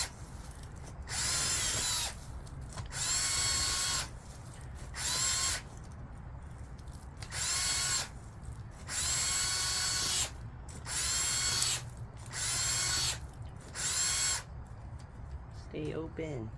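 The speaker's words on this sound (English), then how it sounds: "we're gonna drill a hole and put the mint over here now" A power drill bores a hole in an AeroGarden for mint in repeated short bursts, about eight whining runs of one to two seconds each with pauses between them, close and loud over a quiet room.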